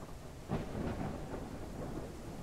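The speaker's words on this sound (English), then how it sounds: "That's a proper thunderstorm." Low rumbling video game thunder rolls in over steady rain, a broad swell building and lingering without any voices.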